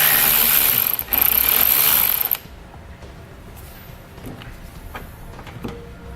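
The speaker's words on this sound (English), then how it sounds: "So we'll grab an 8mm socket and pull it out." Metal ratcheting from a socket wrench turning out an 8mm fastener behind the front fascia of a 2015 BMW X5, a loud dense run of clicks for about two seconds, then quiet with faint handling taps.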